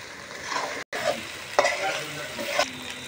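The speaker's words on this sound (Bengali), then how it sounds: "তো ভাজা হচ্ছে, এই মশলার ভিতরেই খাসির মাংসটা রান্না হবে।" Mutton pieces fry in oily spice masala in a pan, making a close, steady sizzle with stirring scrapes and a few sharper clacks of the spoon, with a brief dropout early on.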